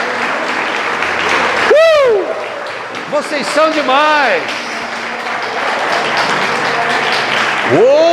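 A crowd applauds steadily while voices talk and call out over the clapping, with a few rising whoops and whistles.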